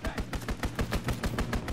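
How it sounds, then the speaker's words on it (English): Flak guns fire in Call of Duty: WWII in fast, evenly spaced booming bursts, loud and continuous like heavy automatic fire. "Flak guns firing, clearing the skies"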